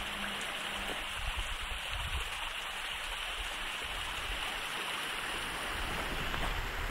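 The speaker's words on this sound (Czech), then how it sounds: "Vodopády šumě." Steady broadband rush of waterfalls from a mountain lake setting, a continuous dense hiss of falling water that stays even and close throughout with no voices.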